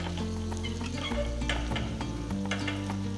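Spices tempering in hot oil for avial crackle and sizzle, with steady frying hiss and small pops throughout, close up and fairly loud, no talking.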